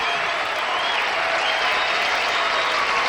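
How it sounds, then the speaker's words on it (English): Dense, steady applause from a studio audience on the game show Card Sharks, continuous and loud throughout without any speech. "That clapping was definitely out of tempo."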